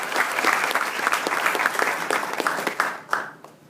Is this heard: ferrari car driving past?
no